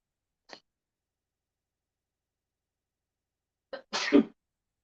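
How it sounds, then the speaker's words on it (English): A single sharp sneeze bursts out near the end after a brief intake of breath, close and loud against otherwise near silence. "I walk away so I can sneeze."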